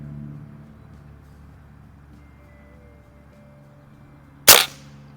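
Beeman underlever air rifle firing a Crosman Premier hollow point pellet in a backyard, one sharp loud close crack after several seconds of quiet background hum.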